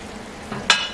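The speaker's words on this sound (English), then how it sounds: "Scrape the bottom of your pan." Utensil scraping the bottom of a pan while a pot roast sears, a faint soft scrape followed by one sharper, louder scrape near the end over a quiet sizzle.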